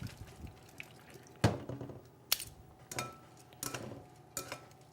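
Cooked pasta noodles being drained in a colander after cooking with ground turkey, giving a few sharp metallic knocks and clatters over a soft wet rustle of water, close and moderately loud with no talking.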